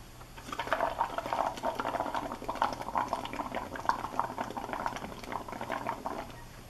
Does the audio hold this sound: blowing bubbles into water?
yes